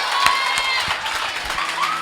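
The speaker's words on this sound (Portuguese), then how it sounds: "vamos aplaudir que isso aí foi forte mesmo" A live audience at a talk-show style event breaks into sustained applause and cheering, a dense, even wash of clapping and crowd noise that holds steady for the whole moment.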